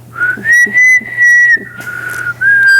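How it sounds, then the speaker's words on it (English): A clear, loud melodic whistle holds long sustained tones that shift in pitch, with a short dip before rising again. "pursed her lips and let out the familiar melodic whistle"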